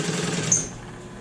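A sewing machine stitches a zipper onto a leather bag in a short, close burst of fast mechanical whirring that stops partway, with no talking.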